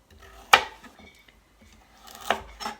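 A kitchen knife cuts carrots into small cubes on a cutting board, giving two sharp, close chops spaced a couple of seconds apart, with faint handling noise between them.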